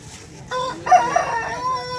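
A country rooster at the Vijayawada Sunday rooster market gives a single close, loud crow lasting about a second and a half over a quiet background.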